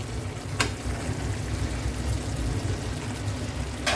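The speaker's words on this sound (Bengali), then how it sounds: "এবার এর মাঝে আমি ভাজা মাছগুলো দিয়ে দেবো একে একে।" Fried boal fish sizzles steadily in masala in a hot pan, a constant close crackle with a couple of brief scraping stirs.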